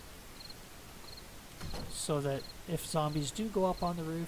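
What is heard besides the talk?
crickets chirping at night in the video game 7 Days to Die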